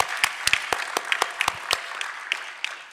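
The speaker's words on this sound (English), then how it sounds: "Give her a big round of applause." An audience at a school board of education meeting claps in a thin, scattered burst of applause, individual claps distinct and uneven, moderately close, with no talking over it.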